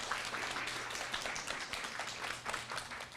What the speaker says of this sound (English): Let's give Jenny a round of applause.